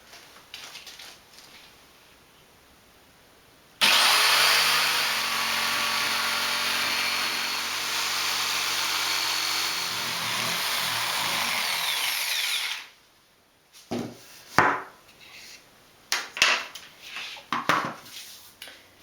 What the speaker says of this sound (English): We'll see if this saw blade works.